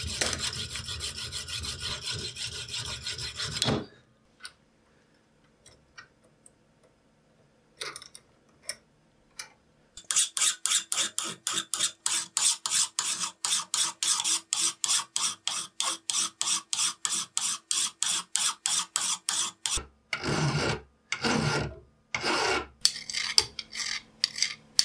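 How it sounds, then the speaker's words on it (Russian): A hand file rasps across the sharp protruding edges of a metal part clamped for a homemade knurling tool, an opening burst followed by long runs of rapid, even, close strokes, with a short sharper run at the end. "срежу и обточу с помощью напильника выступающие острые"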